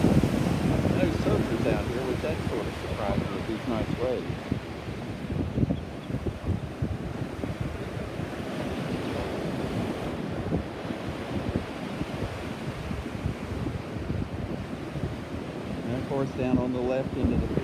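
Ocean waves washing over rocks beside a pier near low tide, a loud, continuous roar of surf mixed with heavy wind buffeting the microphone, with a brief voice near the end.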